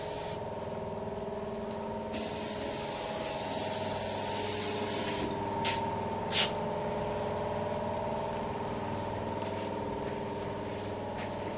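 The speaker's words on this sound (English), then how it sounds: "Spraying all the areas that he'd put body filler in." Feather fill primer sprayed from a spray gun over body filler on a Triumph TR250 car body during restoration, a loud steady hiss in several bursts with short pauses against a humming shop background.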